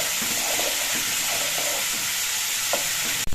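Salted khichuri made with parboiled rice being stirred in a pot, a continuous close frying hiss with soft scraping stirs, ending in a sharp knock near the end, no voices.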